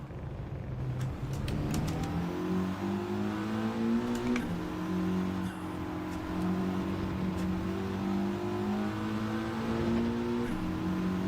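A Mitsubishi all-wheel-drive Group 4 race car in Gran Turismo 7 revs and accelerates hard at Lago Maggiore, its engine note climbing through gears in a loud, continuous drone with brief shift dips.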